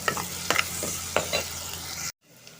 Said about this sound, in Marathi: थोडासा कढीपत्ता टाकते, हा कांदा टाकते, व्यवस्थित घालून घेते.